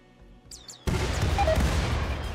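Gunfire in the colony game Rimworld: after a quiet start with faint game sounds and a couple of short chirps, a loud burst of shots hits abruptly and keeps rumbling dense and close.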